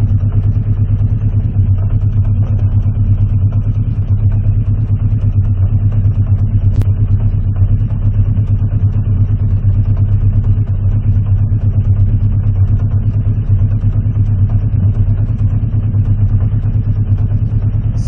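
A Honda CB650C Custom motorcycle engine idling during pilot screw adjustment, a loud steady low rumble held throughout at close range, with no speech.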